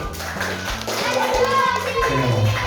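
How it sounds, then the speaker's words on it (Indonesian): Children in a classroom clap their hands together in a brisk, busy burst, mixed with tapping and thumps and young voices chattering throughout. "Tepuk tangan dulu."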